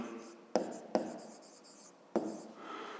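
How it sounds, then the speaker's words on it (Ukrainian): A pen writes on paper during a fifth-grade maths lesson, with a few sharp taps against a soft scratching that runs on quietly between them, close and fairly faint. "Записуємо."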